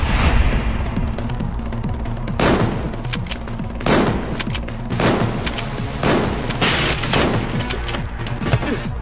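Rapid bursts of gunfire from the video game Final Fantasy X-2, loud and close, with repeated sharp volleys crackling across the whole stretch and no talk.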